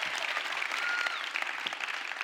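Sustained applause from a studio audience fills the whole stretch, a dense, steady patter of many hands clapping at close range with no pauses.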